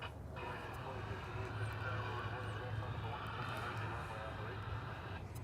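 A Frontier jet, flight 503, departs Dallas/Fort Worth Airport with a continuous engine rumble and whine, partly under someone talking.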